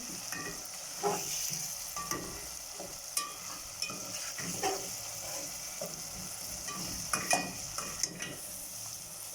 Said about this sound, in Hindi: टमाटर हमारे सॉफ्ट हो जाए इस हद तक हमने मसाले को फ्राई करना है